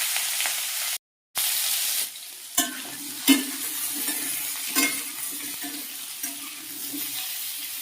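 Pumpkin and potato pieces fry in hot oil with dried red chilli, a steady close sizzle broken by a few sharp clacks of a spatula stirring the pan, with a brief dropout near the start.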